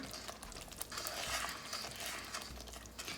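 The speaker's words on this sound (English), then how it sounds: "I'm going to mix everything together" Spices being stirred into a potato gravy in a pot for dum aloo, with soft wet scraping and patter from the spoon, low bubbling underneath, moderately close and uninterrupted by talk.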